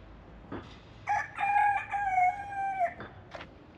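A single young rooster crows loudly nearby in a village garden, one long drawn-out cock-a-doodle-doo rising and holding before trailing off, with quieter clucks around it.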